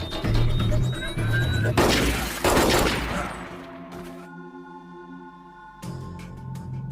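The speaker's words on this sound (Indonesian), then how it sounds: "Seketika, Yuki juga melepaskan tembakan yang menyasar Brandon." Gunfire from a movie shootout fills a dense burst of loud, overlapping shots in the first half. It thins to a sustained tonal drone, and sharp bursts return near the end.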